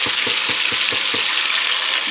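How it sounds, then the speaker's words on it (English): Roast meat searing in a hot pan gives a steady, loud sizzle that holds throughout, with a faint low pulsing of about eight beats underneath. "So you sear one end for about 4 minutes and then sear the other for 4 minutes"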